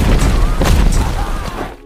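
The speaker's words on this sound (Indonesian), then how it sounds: "Secara membabi buta, Zhang He memicu ledakan." A loud, sustained explosion in a war film set during the Japanese occupation, set off after a smoke grenade is thrown; a dense, rumbling blast with crackling debris that fills the whole moment and tapers off at the end.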